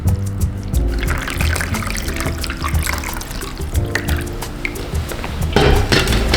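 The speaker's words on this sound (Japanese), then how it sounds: "まずはお湯を 入れたいと思います" Hot water pours into a hydroponic lettuce tray on a shelf under LED lights, a steady watery rush with some clinks, growing louder and splashier toward the end.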